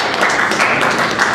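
A brief patter of clapping from a small quiz audience voting for an answer, steady and fairly close, with no clear talk over it.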